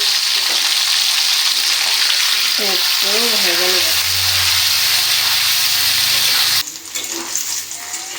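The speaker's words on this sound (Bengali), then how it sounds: "এই যে ডিমটা খোসা ছাড়ে তেলের মধ্যে দিয়ে দিলাম কালার হওয়ার জন্য একটু হলুদ দিয়ে দিলাম একটু লবণ দিয়ে দিলাম" Peeled quail eggs fry in oil with turmeric and salt, a constant loud sizzle close up, with a brief spoken word and a sudden drop near the end as the pan noise cuts out.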